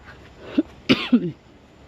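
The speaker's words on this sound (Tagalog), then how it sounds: "Inuubo ako." A few sharp coughs close to the microphone, three bursts in quick succession with a brief pause before the last pair.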